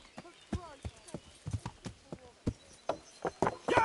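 Horse hooves clip-clop in the medieval role-playing game Kingdom Come, a quick uneven run of close hoof strikes with a whinny-like call near the end, while a voice shouts over them.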